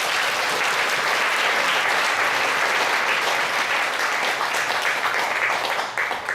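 A church congregation at a Korean dedication service in Vancouver breaks into sustained applause, a dense, even wash of many hands clapping together that holds steady throughout before easing slightly at the close.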